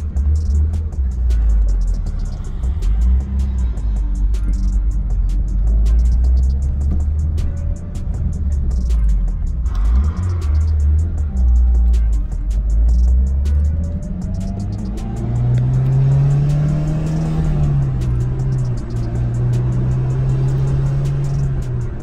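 A Mitsubishi Evo X with a 5-speed manual gearbox rumbles steadily from inside the cabin, its low engine drone rising and falling with gear changes and gentle acceleration, loud and continuous throughout.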